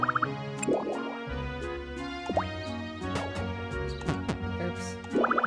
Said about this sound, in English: Oh, I forgot my watering can has no water. Let's fill it up.